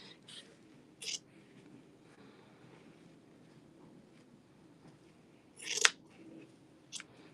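A few quiet, separate snips of scissors trimming craft material, with two or three sharp cuts spaced seconds apart over soft background noise.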